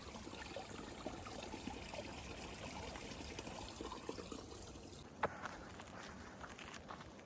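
Quiet trickle of a small trail stream on the Pacific Crest Trail, a steady faint babbling wash with a single brief knock or splash near the end.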